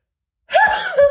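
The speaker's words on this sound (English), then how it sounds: "Oh, I gotta sneeze again." A single sudden sneeze bursts out after half a second of silence, close and loud, with a sharp intake-like onset and a brief voiced tail.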